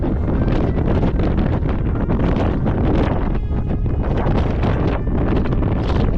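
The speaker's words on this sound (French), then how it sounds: "Il y a un vent tempétueux, il pleut un peu." Powerful gusting storm wind with light rain on the summit of Pic de Nore roars and buffets the microphone in waves, a loud, harsh, continuous storm with no voices heard.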